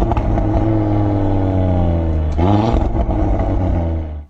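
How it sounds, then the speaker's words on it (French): Audi RS3 five-cylinder engine and exhaust, loud and close, holding a throaty harmonic drone as it climbs, then a sharp burst of revving at mid-clip before settling and dropping away at the end. "Ce moteur 5 cylindres, il est vraiment incroyable"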